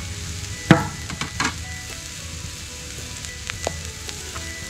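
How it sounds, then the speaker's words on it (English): Soft, steady sizzling of food on a hot Arteflame grill, broken by a few clicks and taps of utensils. "Hear that sizzle?"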